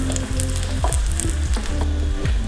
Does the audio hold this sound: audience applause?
no